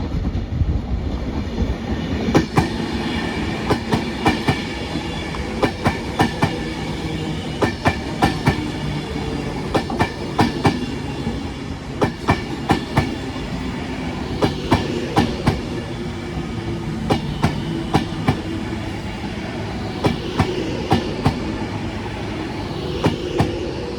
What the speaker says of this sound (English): Next train to pass by is going to be an Avanti West Coast service running from Edinburgh to London Euston via Birmingham International.